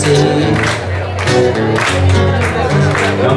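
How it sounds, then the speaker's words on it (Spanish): An audience claps along in rhythm at a live music performance, a loud steady beat of hands mixed with crowd noise and a singing voice over the top. "A ver, esas palmas."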